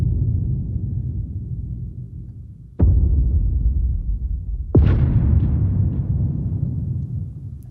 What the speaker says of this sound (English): And then we have the booms.